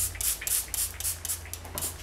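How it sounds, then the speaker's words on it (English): Water is misted onto polymer clay from a spray bottle in several quick, close hissing bursts, one after another, with no voices. "Then I'll give it a light spray"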